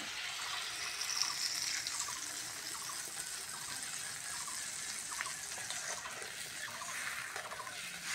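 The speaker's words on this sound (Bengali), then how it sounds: "এবার জল দিয়ে দেবো।" Water pours steadily from a tap into a cooking pan holding spices and tomato for a Bengali bata fish curry, a continuous bright splashing flow for the whole stretch, with no talk.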